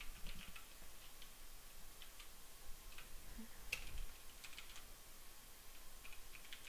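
Light typing on a computer keyboard while an email address is entered, with faint, irregular key clicks under a hiss of background noise.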